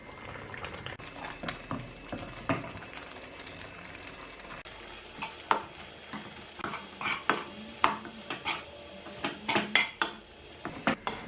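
Semolina being stirred into boiling chicken upma in a pan, a soft bubbling background broken by irregular sharp clinks and scrapes of a spoon against the pan, growing busier toward the end, close and fairly quiet.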